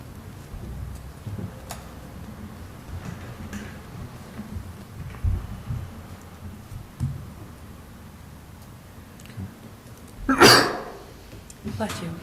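A single loud sneeze bursts out near the end, following a stretch of quiet room noise with faint murmuring and small bumps during a planning commission meeting.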